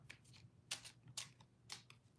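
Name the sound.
tarot cards being shuffled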